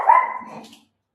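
A single dog bark, fairly close and loud, rising sharply then fading within about a second, alone with no talk around it.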